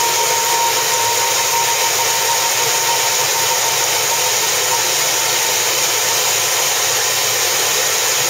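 A film projector reel spins steadily as 35mm film is wound off for breakdown in a projection booth, producing a loud, constant close whirring drone with a faint high whine and no pauses.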